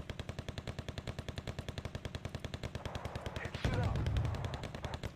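Rapid bursts of game gunfire from Wargame Red Dragon, a Korean War battle scenario, crackling in a steady fast rhythm across the whole stretch, with a heavier explosive rumble partway through.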